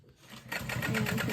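A sewing machine back stitching fabric for a backpack, starting quietly and then running in a fast, steady mechanical whir with rapid rhythmic needle ticks, close and alone.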